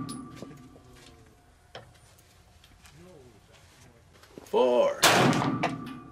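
A Sig Sauer P210A pistol fired with heavier-grain ammo at a 50-yard target on an outdoor range; after quiet moments with soft speech, a sharp report cracks out near the end, followed by a second loud blast.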